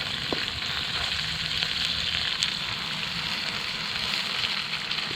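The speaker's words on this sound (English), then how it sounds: "Give that good stirring." Garlic and onion frying in a wok over a campfire, a steady dense sizzle with occasional stirring clinks from a utensil, moderately loud and close, no speech.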